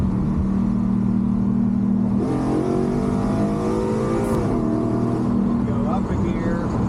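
A Ford F100 with a swapped 5.0 Coyote V8 downshifts and revs, the engine note climbing and falling in a loud close rumble while someone talks over it.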